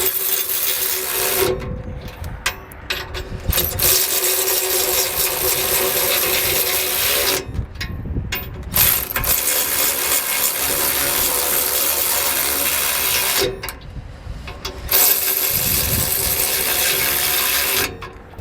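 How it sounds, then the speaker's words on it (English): A socket wrench snugs up the four mounting bolts of a B&W Companion OEM 5th wheel hitch on a 2022 Ram 2500, giving repeated bursts of ratcheting clicks separated by short pauses. "I'm just gonna go ahead and snug up each of these 4 bolts here"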